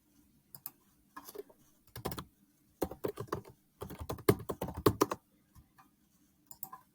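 Keys clatter on a computer keyboard while someone fills in a form, the typing coming in irregular bursts of quick clicks separated by short pauses, close and clear with no talk.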